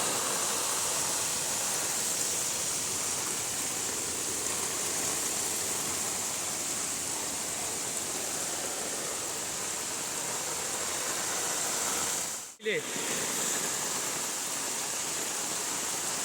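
Floodwater from a cloudburst rushes through a village in Kankavli, a loud, continuous, steady roar close by, broken by a brief knock near the end, with no voices.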